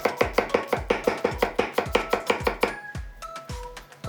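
Garlic cloves sliced on a cutting board with a knife: a fast, even run of about seventeen crisp chops, close and loud, ending in a few slower taps.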